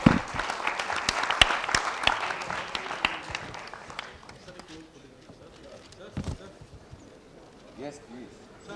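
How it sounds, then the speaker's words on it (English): Audience applause fills a convention hall at the close of a rule of law session, loud dense clapping that swells at first and then thins out into scattered claps and murmuring voices. "please join me in a round of applause"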